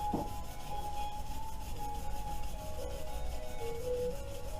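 Steady scraping and rubbing of a wire brush scouring gunk and brake-cleaner residue off a 2005 Subaru engine during a head gasket repair, continuous and close with no talking.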